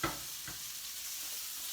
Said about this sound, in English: this is the second batch here, already browning in the oil